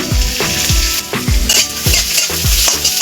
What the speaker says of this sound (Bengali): কড়ার মধ্যে তেল দিয়ে দেব আমরা পেঁয়াজ কুচি দিচ্ছি